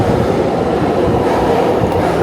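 Steady loud rumble of a metro train in an underground station in China, a continuous low roar with no talk.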